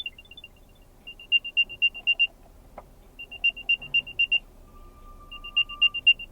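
An Apple AirTag tracker on a car key plays its locating sound, a series of rapid high chirping beeps in bursts separated by short pauses, moderately loud and close in a quiet room.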